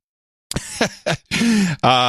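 A few short throaty bursts in close succession, like a cough or throat clearing, with a brief pause between them, close and fairly loud.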